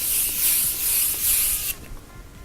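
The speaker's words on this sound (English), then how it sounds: "so I'm gonna set my face right now." Three quick pulsing hisses of facial setting spray mist from a pump bottle, close and bright, then a softer fading hiss after the last pump.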